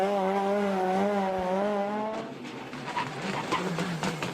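A Citroen DS3 R3T rally car races on a stage of the Sanremo rally. The first half holds a steady, high engine note that drops sharply into choppy gear-shift bursts and rattling revs. No one speaks.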